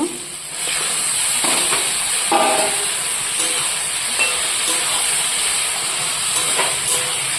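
Meat goes into hot fried spice masala, setting off a loud, steady hissing sizzle with intermittent stirring scrapes and light clatter throughout.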